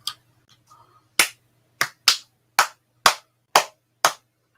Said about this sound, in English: It's like a little clap switch.